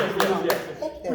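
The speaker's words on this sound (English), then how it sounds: "We forgot to give out a clap." A few hands clap in a talk-show studio as a guest is welcomed, a short burst of claps threaded under ongoing conversation.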